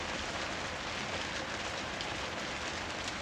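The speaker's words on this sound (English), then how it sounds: "Wow, the rain is incredible." Heavy rain pours in a dense, constant hiss, drumming steadily on a felted shed roof overhead with no pauses or voices.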